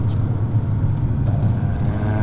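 A Maserati Ghibli sedan rounds a corner on a winding road, its engine a steady, close rumble with tire and road noise underneath, holding an even level throughout without a sharp rev change.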